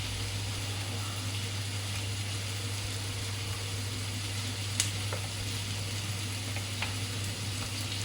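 Tamarind, ginger, green chili and garlic being sautéed in a pan, a steady low sizzle with a couple of faint stirring clicks over a constant background hum, no talk.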